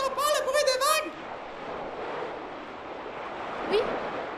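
A voice speaks briefly at the start, then a steady, soft rush of ocean waves carries on alone, with a short faint squeak near the end.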